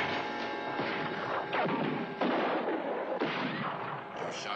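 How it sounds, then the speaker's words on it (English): A gunshot in a western TV episode, heard as a dense, loud blast that sits in a sustained wash of crashing noise and rumble, with no clear speech. "You shot me in the leg, Chad."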